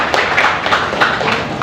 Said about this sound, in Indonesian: kasih tepuk tangan untuk Messi